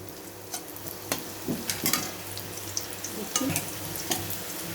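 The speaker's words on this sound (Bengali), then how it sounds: "আমি দেখো তেল গরম করতে দিয়েছি এখন এই যে দিয়ে দেবো নিমকিগুলোকে" Nimki, Bengali savoury snacks, fry in hot oil with a steady close sizzle and bubbling, broken by several louder crackles and pops as the pieces go in and are stirred.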